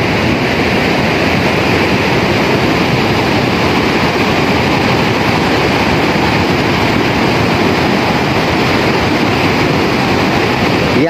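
Rising flood water surging through a street in Sumber Langsep, a loud, steady, dense roar of rushing water that continues without a break from start to finish.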